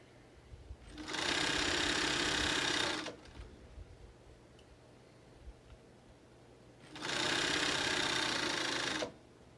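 A sewing machine runs in two steady bursts of a few seconds each, back-stitching over earlier stitches on a fabric mask with ties. A quieter pause falls between the runs.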